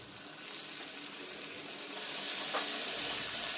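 Ginger garlic paste frying in oil in a pan, a continuous hissing sizzle that grows louder and brighter partway through, heard close with no talking.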